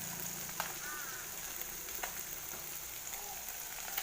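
Fish sizzles steadily in a hot pan while being cooked for a sour fish curry, a dense continuous crackle with a few sharper pops and light scrapes throughout.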